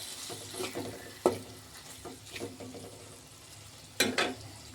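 Egg masala with garam masala is stirred in a hot pan, giving a soft background sizzle broken by scraping spoon strokes and two sharper clinks of metal on the pan. The sound is close, with no voices.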